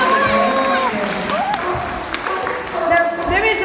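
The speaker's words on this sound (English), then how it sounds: "give him a big round of applause for trying" A crowd at a sea lion show applauds and cheers, a dense, steady round of clapping heard close and loud under a presenter talking over it.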